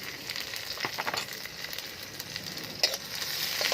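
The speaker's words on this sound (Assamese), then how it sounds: "পিঁয়াজ ভজা হৈ গ'ল, তেজপাত দিয়া হৈছে, লগতে আপোনাৰ আদা ৰচুন দিয়া হৈছে" Onions, bay leaves, ginger and garlic frying in a pan for a kuchiya recipe give a steady close sizzle with a few soft stirring scrapes and one brief clink.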